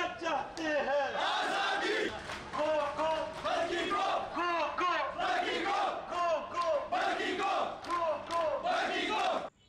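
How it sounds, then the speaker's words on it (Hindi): Young doctors protesting at Lady Reading Hospital chant slogans in unison, a crowd of voices shouting in a steady repeating call-and-response rhythm, loud and close, for nearly ten seconds. "लेडी रीडिंग अस्पताल में एहतजाजी मुजाहरा करते हुए इंतजामिया के खिलाफ खूब नारेबाजी की।"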